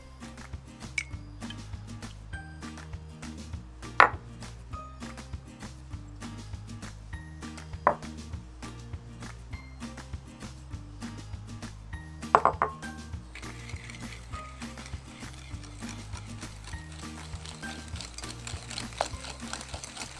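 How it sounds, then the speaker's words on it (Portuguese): Eggs and two sugars beaten in a bowl for brownie batter make a steady, rhythmic clinking and scraping of a whisk against the bowl, with a few sharper clanks, over a low musical backing. "você pega os ovos, junta os dois açúcares e vai mexendo muito bem"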